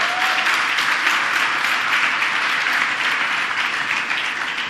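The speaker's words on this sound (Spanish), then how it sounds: "Dele un aplauso fuerte al Señor." A church congregation applauds loudly, a thick continuous roll of many hands clapping that holds steady for several seconds and eases slightly toward the end.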